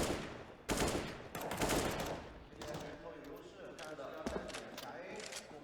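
Rifle fire crackles in a Counter-Strike match on the Mirage map, with bursts of shots and a few sharp single reports under an excited commentator's running talk.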